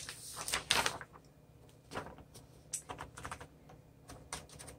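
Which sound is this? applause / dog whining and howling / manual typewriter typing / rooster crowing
manual typewriter typing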